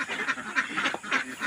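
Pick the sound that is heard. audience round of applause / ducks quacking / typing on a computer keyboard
ducks quacking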